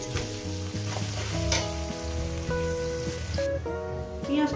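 Chopped onion frying in a pan for a potato and chicken curry, with a loud, continuous, close sizzle and spattering crackle running under background music.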